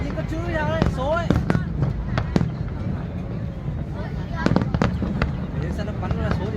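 Fireworks display at the Da Nang International Fireworks Festival, with sharp bursts and crackling pops scattered across several seconds over a steady crowd murmur, and people chattering nearby throughout.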